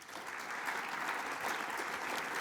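Audience applause welcoming panellists at a foundation event, steady dense clapping from many hands, continuous and even throughout, fairly distant and moderately quiet.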